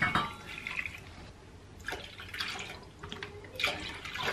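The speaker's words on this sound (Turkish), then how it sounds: "Şimdi dediğim gibi bunun içine sütü ekleyeceğim." Milk is poured into a pot while making güllaç, a soft, close liquid splashing and trickling in a few uneven surges.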